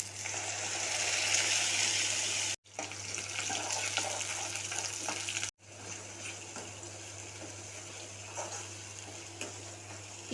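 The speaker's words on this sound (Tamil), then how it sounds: "இது கூட மசாலா அரைச்ச தண்ணியை சேர்த்துக்கலாம்." Ground masala water is poured into a curry pan of sautéed onions, giving a steady hissing, splashing flow with two abrupt breaks, alone and moderately close.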